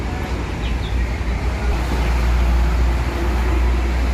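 Harapan Jaya Hino RN 285 bus with Adi Putro bodywork in Tulungagung, a steady engine rumble with constant low road and traffic noise, no clear separate events.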